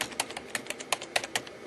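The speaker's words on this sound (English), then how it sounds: "That keyboard clacking could be the sound of staying connected with your kids" Computer keyboard keys clack in quick, irregular bursts of typing, close and crisp with no voices over them.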